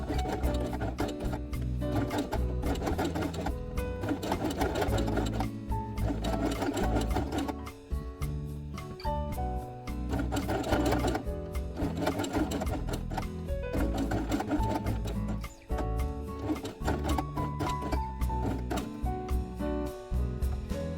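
A sewing machine stitches pink fabric circles onto a cloth quiet book page, its fast, even needle clatter running almost without pause for about twenty seconds, close and loud, with only brief stops.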